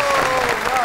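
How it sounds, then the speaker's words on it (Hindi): Studio audience applause on a television comedy talk show, a brief steady patter of clapping with a voice over it. "आपकी बहुत सी तालियों में"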